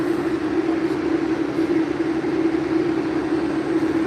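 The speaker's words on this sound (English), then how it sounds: "Been on the Red Line train for heaven knows how long." An MBTA Red Line subway train riding along, heard from inside as a steady, loud rumbling drone with a strong low hum and constant track noise, without pause or speech.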